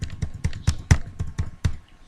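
Single keys tapped repeatedly on a computer keyboard while clearing spreadsheet table cells, giving about nine distinct close clicks spaced a quarter second apart.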